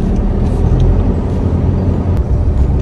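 Busy evening traffic streams along a street by a market in Riyadh, a loud continuous rumble of cars and buses with a brief hiss of air brakes and no speech.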